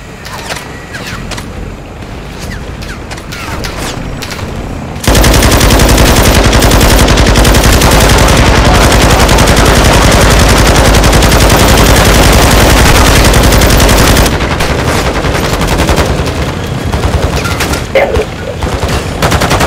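Rapid, sustained automatic gunfire from a Call of Duty video game, a dense, loud burst that runs without a break for about nine seconds. Quieter game sounds and scattered shots come before and after it.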